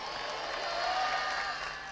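Church congregation at an annual convention breaking into applause, a steady dense patter of many hands clapping through a hall at moderate volume, continuous and even.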